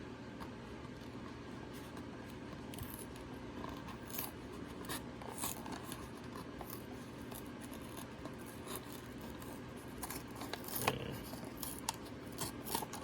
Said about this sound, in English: Use my X-Acto knife just so I don't tear the card up too much.